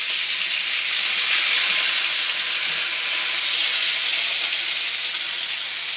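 Halibut fillets searing in a hot pan give off a loud, steady, bright sizzle, a continuous close hiss of oil and steam with no voices over it.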